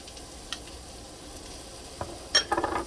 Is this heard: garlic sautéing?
yes